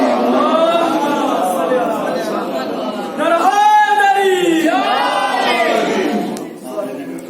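A crowd at a Jashn-e-Mauloode Kaba religious gathering in Lucknow chants slogans and salawat together, with loud, sustained massed voices rising in a strong swell midway and fading toward the end.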